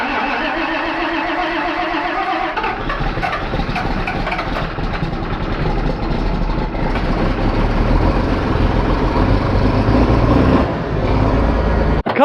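Diesel tractor engine cranks for a couple of seconds, then catches and settles into a loud, steady, rough idle close by, with no talking.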